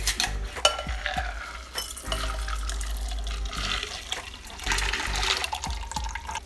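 An ice-cold New York Sour is strained from a shaker, with liquid pouring and splashing among rattling ice and metal clinks, close and fairly loud with no speech.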